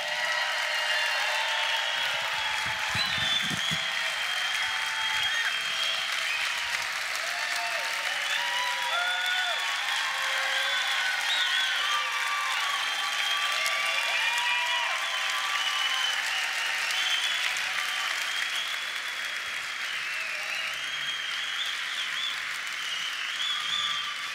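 A large convention audience claps for the speaker's grandfather in a big hall, a dense, sustained roar of applause that holds steady and loud throughout.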